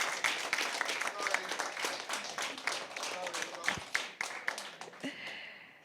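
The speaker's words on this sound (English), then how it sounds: "Please give her a round of applause." A crowd at a debate event claps steadily in dense, continuous applause that fades toward the end, with a few voices faintly audible underneath.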